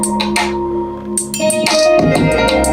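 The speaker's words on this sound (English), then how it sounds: "with the complete drum bounce, it sounds like this" A full West Coast hip-hop drum loop with punchy kicks, crisp hi-hats and snares rides over tonal synth layers in a bouncing, loud mix.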